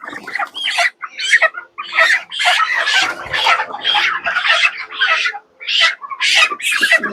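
Broiler chickens being caught in batches of five, clucking and squawking in dense, loud, overlapping bursts close by with brief gaps and no talking.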